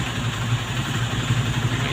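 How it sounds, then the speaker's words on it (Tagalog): Two motorcycles idle as their engines warm up, a continuous low, throbbing rumble with steady pulsing, close and fairly loud. "ngayon, pinapainit ko yung dalang motor"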